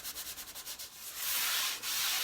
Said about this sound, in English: So this is one coat of shellac, and I've been lightly sanding it with 800 threads.